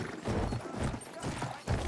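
Horse hooves clopping in the Battlefield 1 video game, with a repeated galloping rhythm close up that sits among a busy battlefield background.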